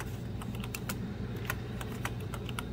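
Computer keyboard typing close by, a steady run of quick, uneven key clicks over a low background hum, with no voices.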